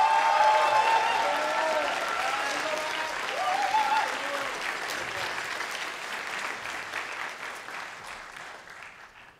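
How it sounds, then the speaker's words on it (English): Audience applause for a student conductor at an APAC band concert begins loud and dense with a few cheers, then slowly fades as the clapping thins out toward the end. "Let's give Matt Klein another round of applause"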